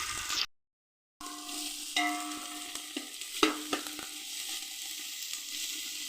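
Tomato pieces fry in a pan with a steady, close sizzle, broken by scraping stirs and light clinks of the spoon against the pan.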